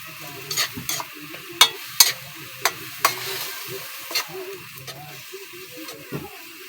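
Pechay greens sautéing in a hot pan, a steady frying sizzle broken by repeated sharp scrapes and clacks of a utensil stirring against the metal, close and fairly loud with no talk.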